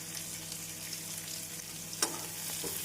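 Onions with curry leaves and green chili sautéing in a pan, heard as a soft, even sizzle with one brief utensil clink, quiet and with no talk.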